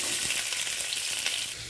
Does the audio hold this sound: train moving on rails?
no